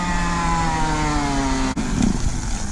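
A KTM 65 motocross dirt bike engine runs close by with a bogging, falling engine note that sags and then cuts off abruptly before sputtering back.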